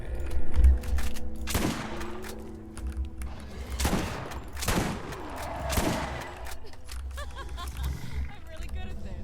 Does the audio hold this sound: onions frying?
no